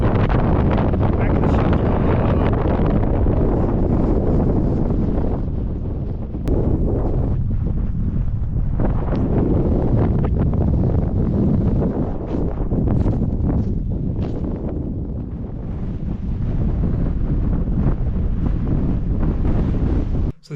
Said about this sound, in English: that wind, that sure makes things feel cold